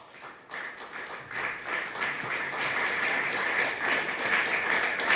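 An audience at an RCM motivational talk breaks into dense applause that swells from a few scattered claps into steady, loud clapping that continues to the end.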